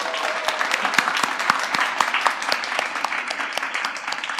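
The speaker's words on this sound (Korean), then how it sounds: "박수 소리가 정말 우레와 같아서" A thunderous wave of applause fills the hall as guests Ahn Cheol-soo and Professor Jin Joong-kwon are welcomed at a book concert, dense and sustained with sharp individual claps standing out.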